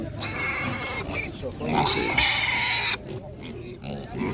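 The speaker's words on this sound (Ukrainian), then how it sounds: "Свині породні, гарні, людські гарні свинки." Seven-week-old pigs squeal and grunt close by at a village market, with a loud shrill squeal in the middle, while people talk over the noise.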